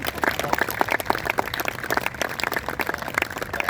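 Applause from a stand-up comedy audience, a dense steady patter of many hands clapping at moderate distance, sustained throughout with no voices over it.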